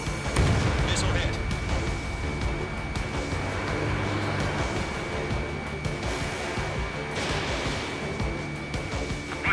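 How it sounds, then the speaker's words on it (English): Missile impact explosions from the Ace Combat 7 flight combat game, heavy booms and rumbling blasts layered over a constant engine roar, with radio voice chatter throughout. "Missile hit."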